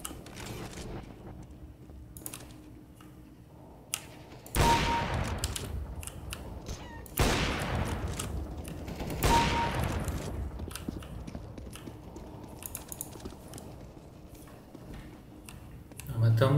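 Gunfire in Counter-Strike: Global Offensive, including sniper shots: three loud, sharp reports spaced a few seconds apart, each with a long decaying tail, over faint keyboard clicks and quiet game ambience.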